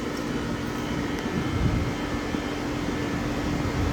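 An air conditioning compressor at a church daycare runs steadily, a constant low hum and rumble with a faint tonal whine, heard nearby without voices.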